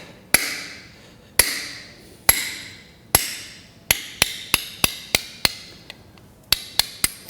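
Close, sharp metallic hammer strikes on parts of a Mopar 273ci small block engine: about fifteen hits, spaced out at first and then coming in quicker bursts, each ringing briefly.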